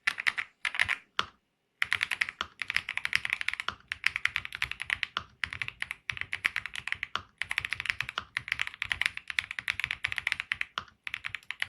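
Fast, steady typing on a mechanical keyboard with linear 43-gram Kaihua Chitu switches, heard up close with crisp clacks and a short pause near the start.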